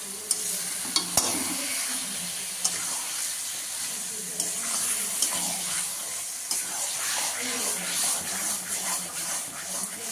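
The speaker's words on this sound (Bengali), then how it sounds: "আমার ম্যারিনেট করা মাংসটা দিয়ে দিলাম, চিকেনটা দিয়ে তারপরে আবার একটু ভালো করে নাড়বো" Marinated chicken frying in a pan with coriander leaves, stirred repeatedly. A steady close sizzle runs under sharp clacks of a spoon against the pan at irregular intervals, with no talk.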